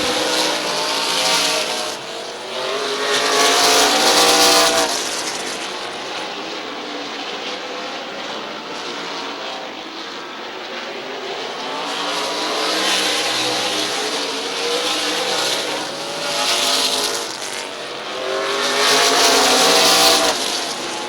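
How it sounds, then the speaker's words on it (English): Super Cup Series stock cars racing at Midvale, engines roaring past in repeated waves as packs sweep by the track, loud and sustained with swelling and fading passes. "15 laps to go this time for Ben Ebling."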